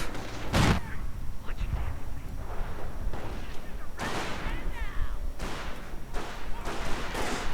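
Rifle and Panzergrenadier gunfire in a World War II strategy game: a burst of sharp shots, then a steady crackle of fire with some heavier thumps, all continuous through the clip under loud battle ambience.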